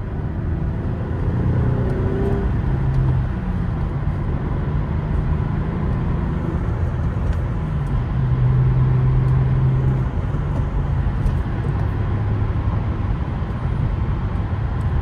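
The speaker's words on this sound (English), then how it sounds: "There's so many cars over here so early." Cars pass along a road early in the morning, a steady broadband traffic roar with low tonal engine hums swelling as vehicles go by, fairly close and continuous, no voices.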